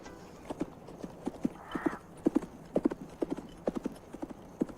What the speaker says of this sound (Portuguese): pega seu cavalo e vai embora